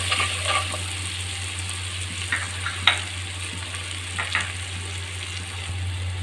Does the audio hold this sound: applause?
no